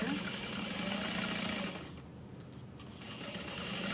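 A sewing machine back stitches a vinyl foldover bag in a steady, close mechanical whir that briefly eases and then picks up again.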